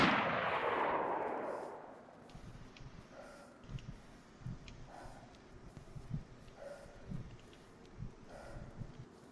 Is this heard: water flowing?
no